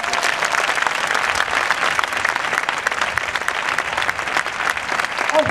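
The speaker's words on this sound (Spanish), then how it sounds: "Os pido, por favor, que limitéis la cantidad de aplausos" Sustained applause from an assembly audience, a dense, steady wash of many hands clapping close by for the whole stretch with no pause.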